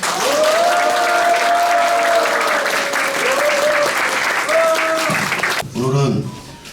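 Sustained crowd applause fills a hall at a general assembly of a peace and reunification organisation, with a voice ringing over the clapping before it thins out near the end and speech takes over.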